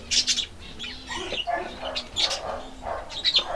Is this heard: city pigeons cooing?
yes